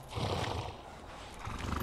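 A horse whinnies in Ghost of Tsushima, a loud, drawn-out neigh close by that swells, dips in the middle and rises again toward the end, with no voice over it.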